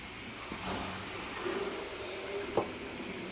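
Ash gourd and fish curry simmers in a covered pot, giving a faint, steady hiss with soft bubbling and a couple of light clinks.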